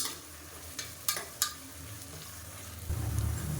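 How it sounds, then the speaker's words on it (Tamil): Large and small onions sautéing in a pan for mutton kuzhambu make a soft, even sizzle. Three sharp spatula clicks come early, then a low rumble near the end, close and without speech. "இப்போ வெங்காயம் நல்லா வதங்கிடுச்சு"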